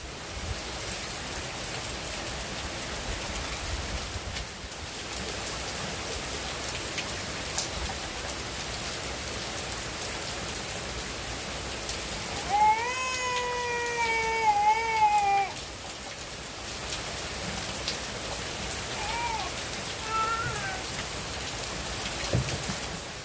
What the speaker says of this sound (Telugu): చూడండి వర్షం విపరీతంగా పడుతుంది